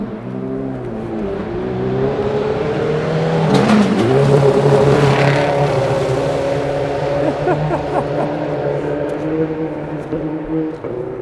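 A rally car driven by Leo roars through a forest stage at the 2012 New England Forest Rally, its engine revving and rising as it nears and passes, loud and sustained amid engine rumble.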